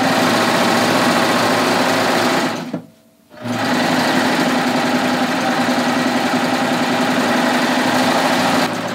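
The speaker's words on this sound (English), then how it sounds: "what I'm going to do now is I'm going to serge the seam" Serger sewing machine running steadily as it serges a seam in knit fabric, a loud continuous mechanical whir that halts for about half a second near the three-second mark and then resumes at the same pace.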